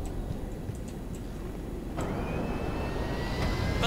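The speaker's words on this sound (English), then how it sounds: "Gonna take my private jet for a twirl." A private jet in GTA 5 sits idling before takeoff, a steady low engine rumble that swells midway as a thin rising turbine whine joins in and holds, no one talking.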